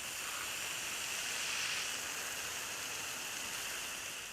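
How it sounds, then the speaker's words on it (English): A water spray rinses a dirty car wheel, a steady close hiss of jetting and splashing water that holds constant throughout with no voices. "we just rinsed off the wheel"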